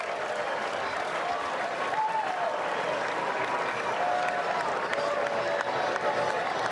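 A baseball crowd gives a sarcastic Bronx cheer for the Pirates' first hit of a Yankees vs Pirates game, a steady wash of cheering and applause that holds at an even level throughout.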